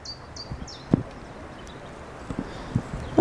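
Horses' hooves clip-clop in a few slow, separate steps at a stable, moderately close, with faint bird chirps in the background.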